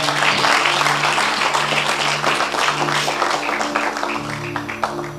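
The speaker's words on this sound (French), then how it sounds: "allez, on acclame pour la parole du Seigneur" An audience at a prophetic church conference claps and applauds loudly and steadily for several seconds, a dense crowd of hands with a sustained hum beneath.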